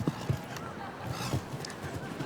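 Horse hooves thud on the arena footing at a show jumping competition, a few dull, rhythmic beats heard at moderate distance beneath steady crowd and venue ambience, with a voice talking over them.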